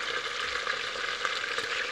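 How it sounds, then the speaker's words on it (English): Steady, close crackling sizzle of chicken frying in a hot pan for coq au vin, continuous hiss with small pops throughout. "So what is happening here is I'm frying off my chicken"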